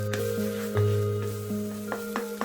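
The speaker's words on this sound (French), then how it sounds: "Puis ajoutez l'ail haché." Minced garlic and crushed dried chili sizzle gently over low heat for mapo tofu, a soft, steady frying hiss with a few light clicks, partly under background music.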